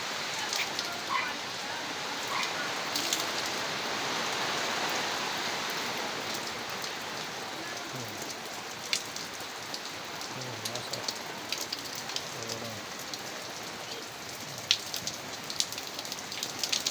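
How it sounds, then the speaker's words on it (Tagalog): Heavy rain pours steadily on surfaces outdoors, a dense continuous hiss with scattered sharper drops and patters throughout, loud and close. "Lakas ang ulan."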